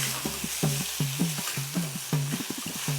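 Tomatoes added to softened onions sizzle and fry in a pan while being stirred, a steady close hiss broken by repeated rhythmic scraping strokes, with no talk.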